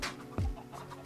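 A chicken in the video game Minecraft gives a single short cluck, brief and fairly close, over a quiet background.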